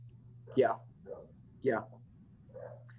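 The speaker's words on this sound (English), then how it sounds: "If you hear a dog barking," A dog barks outside in a few short, separated bursts over a steady low hum, with brief spoken replies between them.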